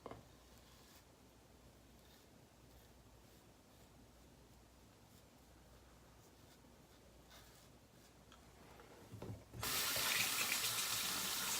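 Tap water from a faucet runs into a sink while a double-edge safety razor is rinsed mid-shave, a steady low wash that swells into a loud, bright gush near the end.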